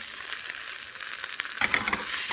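Eggs and spinach with sprinkled mozzarella fry in a pan with a steady, close sizzle that swells louder near the end as the food is flipped and stirred.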